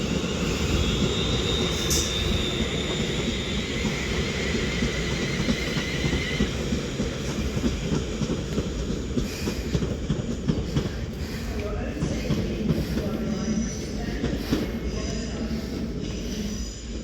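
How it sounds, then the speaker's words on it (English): A London Northwestern Railway Class 350 electric train departs Crewe on the West Coast Main Line, its wheels and motors rumbling steadily nearby with some squeal as it pulls away. "now departing to London North Western Railway Class 350"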